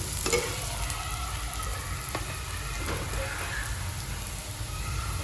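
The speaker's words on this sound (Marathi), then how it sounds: "बघा छान परतले टोमॅटो आणि कांदा" Tomato and onion sauté in a pan with a steady, close crackling sizzle and a few faint stirring scrapes, with no talk over it.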